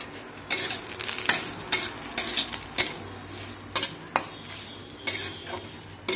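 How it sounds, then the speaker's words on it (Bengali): Whole spices, cashews, almonds and raisins fry in a pan with a low sizzle, punctuated by a regular series of loud spoon-on-pan stirring scrapes and clinks, close up and without talk. "সব কিছু একসাথে দিয়ে এটা একটু ভেজে নেব।"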